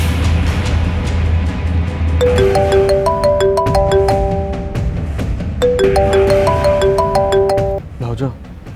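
A mobile phone ringtone plays a short melodic phrase twice in a TV serial scene. The ringing is clear over a low background hum, with faint voices around it.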